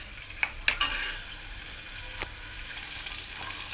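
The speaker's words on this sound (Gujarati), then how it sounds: "તેમાં હવે આપણે ગુવારને ફ્રાય કરી દઈશું." Cluster beans (guvar) frying in oil in a pan over high flame for a Kathiyawadi guvar-bateta dish; a continuous close sizzle with a few sharp clinks and scrapes of a spatula early on, no talking.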